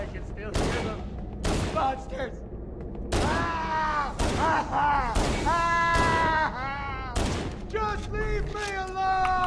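Repeated gunfire from a Marine with infinite ammo in the Halo CE video game, loud, irregular bursts and volleys with shouting voices and game chatter between and over the shots.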